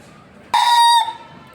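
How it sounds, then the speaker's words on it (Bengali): A rooster in a village yard lets out a single short, bright crow, loud and close against a quiet background. "দেখছেন আমার মুরগিতে ডাকতেছে"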